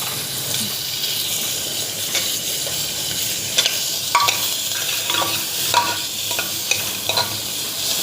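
Roughly chopped garlic and onion sauté in butter for a creamy corn soup, a close, steady sizzle broken by several scraping stirs of a utensil in the pan.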